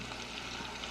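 Onions fry in a pan for French onion soup, giving a soft, steady sizzle that stays faint and even for a brief moment.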